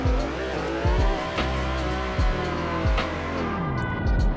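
A car in the Assetto Corsa racing game spins out during a failed clutch-kick drift, its engine revving and wailing up and down while the tires squeal in repeated screeching bursts, loud and close.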